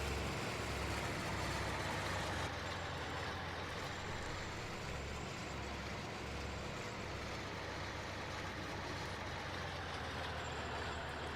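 A tractor in the Farming Simulator game, on the Greenwich Valley map, drives along. Its engine gives a steady, dense rumble that holds with little change throughout, and no one talks over it.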